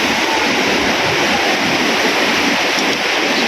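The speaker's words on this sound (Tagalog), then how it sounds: "So medyo ang alon ngayon dito sa dagat ay talagang malakas." Strong sea waves breaking along a coast where people surf, heard as a steady, loud, unbroken roar of surf with no voices.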